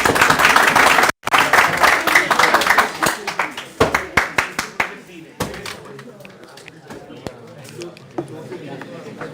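Applause from a lecture-class audience: a dense burst of clapping that thins into scattered individual claps and fades out over several seconds.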